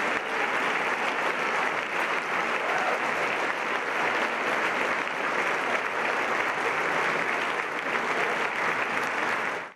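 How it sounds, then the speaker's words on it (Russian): A concert hall audience gives a standing ovation after a gala of opera and ballet works performed by Kazakh musicians in Rome, with dense, sustained clapping at an even level throughout. "Аплодировали артистам зрители стоя."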